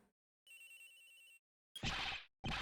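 A cell phone rings in the Ace Attorney Investigations video game: a buzzy electronic ring followed by two short loud bursts, each starting abruptly and separated by silence.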